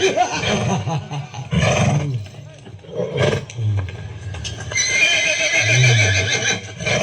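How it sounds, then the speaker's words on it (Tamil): A horse whinnies loudly several times, with shrill calls over low, roaring tones, while people nearby shout and talk over it and the noise of a crowd rises and falls. "குதிரை வருது"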